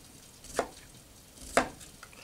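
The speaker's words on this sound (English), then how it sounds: "I cut into the onion like that and then I just shave it off" A knife shaves small slivers off an onion on a cutting board: two quiet, crisp slicing strokes about a second apart, close by, with no talking.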